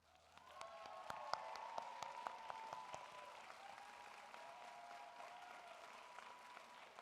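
Graduates at a law school commencement ceremony applaud their loved ones, a broad wash of clapping from a large crowd in a big hall, with some distinct close claps and a faint sustained tone under it.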